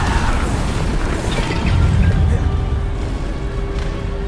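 A Bombarda spell explodes in the Hogwarts Legacy video game with a loud, sustained booming blast that rolls on as a dense rumble before slowly easing off.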